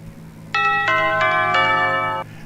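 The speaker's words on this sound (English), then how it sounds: "that was my alarm to vape." A phone alarm reminder chimes as a short electronic melody of four bright, stepped tones, close and clear over a low steady background hum, with no talking.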